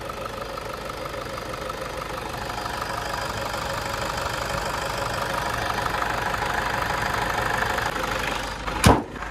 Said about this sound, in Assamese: একদম নৰ্মেল চাউণ্ড হয় খুব হেভি ইঞ্জিন হয় চাউণ্ডটো তেনেকুৱা নাই কিন্তু চাউণ্ডটো ধুনীয়া হৈ আছে